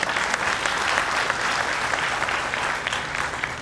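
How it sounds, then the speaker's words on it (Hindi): Audience applause fills a bank officers' union annual general body meeting in Pune, a steady dense clapping from a large crowd held at even loudness throughout, with no voices over it. "ताली बजाइए।"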